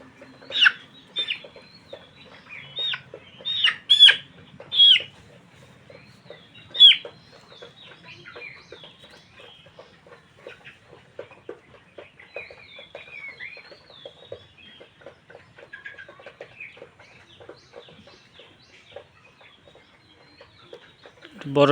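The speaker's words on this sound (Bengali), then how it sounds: "এই যে এইদিকে একটা মুরগি বের করে রাখা হয়েছে" Layer hens in a Bangladeshi poultry shed, some weak and sick after coryza vaccination, cluck and squawk in scattered bursts, loudest early on, then softer intermittent clucking with occasional voices in the background.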